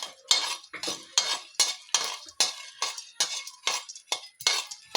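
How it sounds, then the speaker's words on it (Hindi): Dry fruits are roasted in a pan on a gas stove for laddu. A spoon scrapes and clinks against the pan in a steady rhythm of about two strokes per second, close and crisp, with no talking. "गैस चालू कर दी है और अब मैं लगी इनको भूनने"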